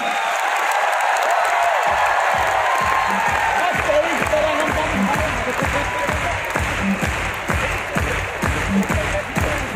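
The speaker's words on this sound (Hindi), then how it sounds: "तो दोस्तों एक बार फिर से जोरदार तालियों से स्वागत करें स्टेज पर" An audience at a product launch and anniversary event in Raipur claps to welcome a speaker onto the stage. Loud, dense applause with crowd noise builds quickly and holds, and a few distinct claps stand out in a steady rhythm.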